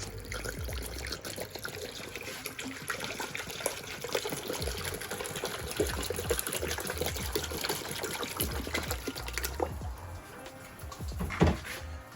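Water pours steadily into the coolant system of a boosted Honda Civic, a continuous splashing trickle close by for the whole stretch, with a few clanks and handling noises toward the end.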